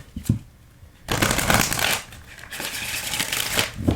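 Tarot cards are shuffled in quick riffling bursts, close and crisp, with short quiet gaps between the flurries.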